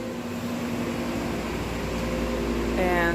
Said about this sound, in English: They left these fans here till Tuesday